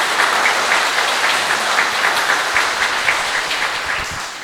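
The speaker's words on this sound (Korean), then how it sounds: "우리 LD 그리고 배금자 카타리나 부부를 힘찬 박수로 환영해 주십시오" Steady applause from a crowd, many hands clapping together at an even level throughout with no voices.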